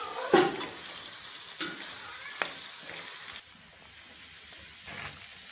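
Okra pieces frying in hot oil in a pan, a steady soft sizzle with a few brief stirring clatters, heard close up with no talk.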